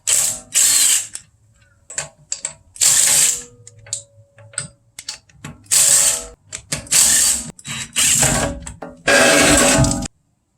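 Pneumatic impact wrench bursts spinning 17 mm lug nuts off an Audi A4 B8, loud and close, several short and long whirring bursts with ratchet clicks between them.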